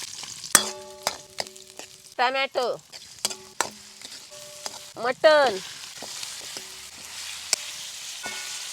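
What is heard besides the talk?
mutton sizzling while sautéed in oil and onions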